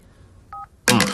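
A single telephone keypad tone, a short two-note DTMF beep of about a quarter second, sounds faintly, then a voice starts speaking loudly right after it.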